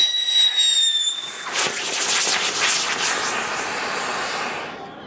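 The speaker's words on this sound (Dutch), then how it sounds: "Veilig vuurwerk. Maar wel leuk." Consumer fireworks set off in Valencia: a whistling squeal at the start, then crackling bursts and hissing sputters that gradually fade, loud and close.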